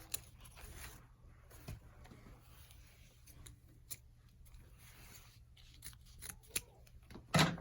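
Scissors snip ribbon tails on a grapevine winter wreath with greenery and blueberries, making scattered faint, close clicks and cuts at an irregular pace, with a louder snip near the end.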